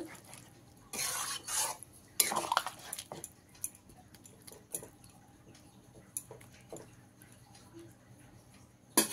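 Spoon stirring soybean do-pyaza gravy in a pan after hot water is added, with a few wet scraping bursts early on followed by light scattered clinks and taps of utensil on metal, close and without talk.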